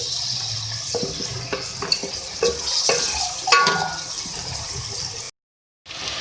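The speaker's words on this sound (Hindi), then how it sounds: "इसके साथ मैं इसको जो है फ्राई करूँगी।" Steady sizzling of beef frying in a pan with ginger garlic paste, with intermittent stirring scrapes and clinks, close and fairly loud, then a brief cut to silence near the end.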